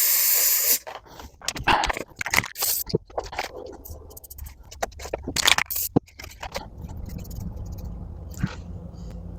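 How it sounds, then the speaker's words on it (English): Spray adhesive is sprayed onto a piece of walnut in a workshop, making several short hissing bursts with quiet handling scrapes and rustles between them. "I'm just going to use some spray fix"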